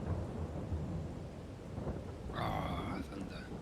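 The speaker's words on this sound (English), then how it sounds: "Ah, thunder." Thunder rumbles in Farming Simulator 22, a low continuous roll with a brighter crack-like burst partway through, heard alone without talk.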